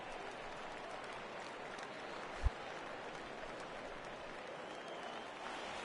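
A home crowd applauds in a baseball video game, a steady wash of clapping and cheering with one brief low thump partway through.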